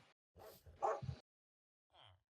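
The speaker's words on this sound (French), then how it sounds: "Oh, un bébé loup. C'est un bébé toutou." A baby wolf pup in a video game gives a few short, close yips and whimpers in quick bursts, then one fainter yelp after a pause.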